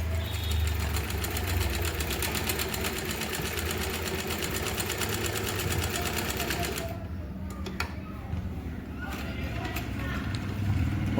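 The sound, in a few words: Usha sewing machine stitching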